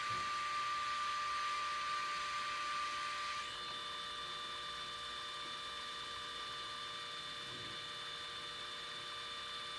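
HP Sprocket 2-in-1 photo printer running a print job, a steady electronic whir and hum with a faint high whine, shifting slightly a few seconds in and then continuing evenly, close and quiet with no talking.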